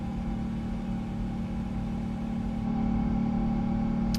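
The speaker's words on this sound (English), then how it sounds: "Listen to those engines" Simulated PMDG Boeing 777-200ER jet engines in Microsoft Flight Simulator 2024 give a steady, continuous low drone and hum that swells slightly louder near the end, with no one talking.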